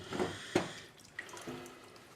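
Hot tap water splashes while the gears of a CYMA V3 airsoft gearbox are washed, heard as quiet, scattered drips and splashes, a few sharper ones standing out against a faint background.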